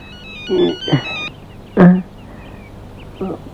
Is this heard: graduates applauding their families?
no